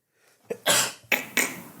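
A few abrupt bursts from someone nearby, like a sneeze followed by quick coughs, with short breaths between.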